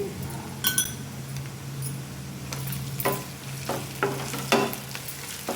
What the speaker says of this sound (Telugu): ఇలా వేసుకొని ఇలా గంటతో తిప్పుకుంటూ ఫ్రై చేసుకోవాలి. అల్లం వెల్లుల్లి పేస్ట్ పచ్చివాసన పోయేంత వరకు ఇలా ఫ్రై చేసుకోవాలి.